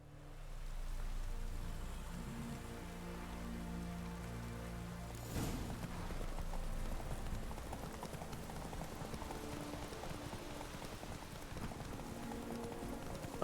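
Horse hooves gallop in a rapid, steady clip-clop rhythm throughout, in the video game The Witcher 3, faint and continuous, with a brief sharp burst midway.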